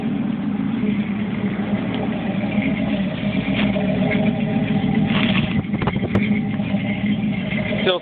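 A 267 V8 idles with a steady, continuous rumble just after a carburetor rebuild, the engine running close by and fairly loud, with a brief rev-like flutter around the middle.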